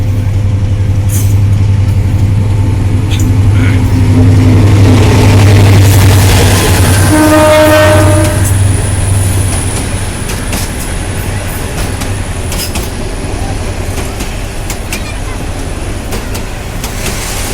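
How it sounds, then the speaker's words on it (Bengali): Bangladeshi passenger train Dolonchapa 767 Up, hauled by locomotive 2912, passes close by with a loud steady rumble and a rising horn blast midway, then the clatter fades while a voice talks. "767 আপ দোলনচাপা, লোকোমোটিভ 2912।"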